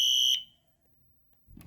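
An Exceeder fire alarm lets out one short, piercing electronic tone, loud and close, then cuts to silence before a brief dull knock.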